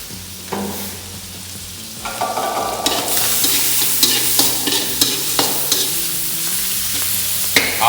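Eggplant curry with tomato, onion and garlic sizzling in a frying pan while being mixed, with steady hiss under repeated close scraping stirs and spoon knocks throughout.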